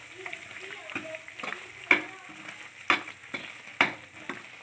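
A spatula stirs bubbling Mysore Pak mixture in a pan amid soft sizzling, with a few sharp metallic scrapes against the pan, while someone talks over it.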